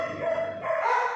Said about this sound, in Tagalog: Pasensya na po maingay mga aso namin.